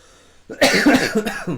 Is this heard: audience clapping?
no